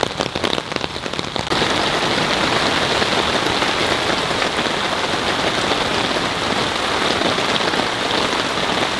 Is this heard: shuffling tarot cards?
no